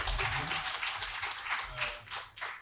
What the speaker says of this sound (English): A better round of applause to our speaker.